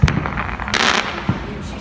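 Fireworks explode on bonfire night with several sharp bangs and crackling bursts, loud and fairly close, while a voice briefly talks over them.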